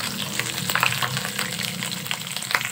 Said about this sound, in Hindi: इसके साथ ही इसमें डाल दूंगी सफ़ेद जीरा और इसको मिक्स कर लूंगी।